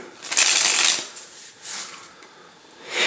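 New playing cards riffled and handled out of a fresh deck, crisp papery shuffling bursts, loudest at the start then quieter flicks, close and alone with no voice.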